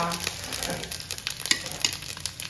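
Mustard seeds splutter and pop in hot oil, tempering for a festive mixed-vegetable khatkhate dish. Dense crackling sizzle with irregular sharp pops, heard close and fairly loud.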